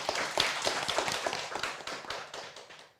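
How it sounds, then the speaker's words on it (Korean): An audience claps at a Jeonju reading-festival event honouring the 130th birth anniversary of poet Gaham Lee Byeong-gi, just before a recitation of his orchid poems. The claps are close and fairly loud, then thin out and fade over a few seconds. "박수로 듣겠습니다."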